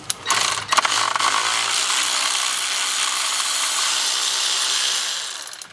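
Steady metallic ratcheting from a wrench working loose the two 30mm nuts holding the slave cylinder on a BMW during a clutch and flywheel replacement, running close and continuous for several seconds with no talk.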